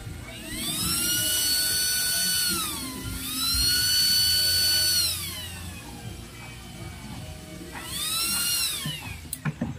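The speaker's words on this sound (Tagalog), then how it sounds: "testingin na rin natin yung kanyang control module para sure ball tayo na gumagana" A used-oil stove's control module runs under test, giving a loud, high electronic whine that rises and falls in several long swells, with brief quieter gaps and a few clicks near the end.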